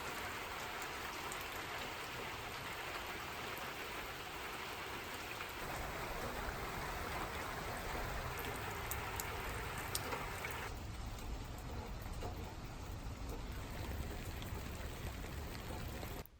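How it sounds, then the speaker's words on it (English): Steady rain falls and patters continuously on surfaces, a dense hiss that shifts slightly in texture partway through. "it started to rain."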